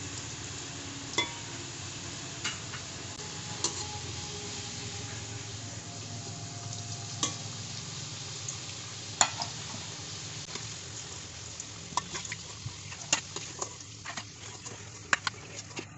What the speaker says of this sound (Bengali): এখন আমরা এই কেটে রাখা আলুগুলো একটু একটু করে ভেজে নেব।